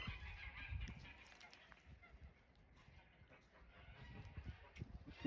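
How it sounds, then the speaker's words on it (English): Geese honk repeatedly in the distance on a small farm in Canada, over steady outdoor background noise, the calls overlapping in a noisy, agitated chorus. "Geese are going nuts again. You hear that?"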